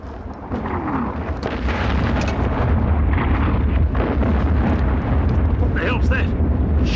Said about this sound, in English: What the hell's that? Shells.